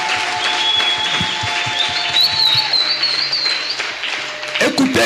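Church congregation applauding after a call to praise the Lord: loud, steady clapping fills the room for several seconds, joined by high whistles, with a voice speaking near the end.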